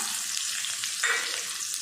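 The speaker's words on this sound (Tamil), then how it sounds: "பட்டை கிராம்பு ஏலக்காய் கல்பாசி எல்லாம் நல்லா பொரிய ஆரம்பிச்சிருச்சு" Continuous crackling sizzle of small onions frying in hot oil with cinnamon, cloves, cardamom and stone flower, steady and close, with a brief louder spatter midway.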